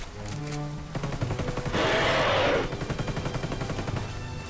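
Gunfire rattles in the Ghost Recon Wildlands Predator mission: a dense burst of rapid shots about a second long, mid-clip, over a steady tonal game soundscape.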